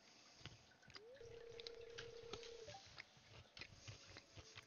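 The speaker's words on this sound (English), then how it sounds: "I'm trying not to crunch too loud." Crunchy chewing in the Stardew Valley farming game, soft irregular bites and munching close up over a steady tone and light background game sounds, with no talking.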